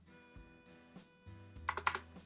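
Computer keyboard typing while writing game code, a few quick close keystrokes, then a tighter burst of clicks near the end, with no talk.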